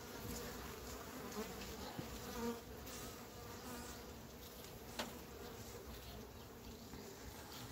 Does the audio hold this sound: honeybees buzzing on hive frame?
yes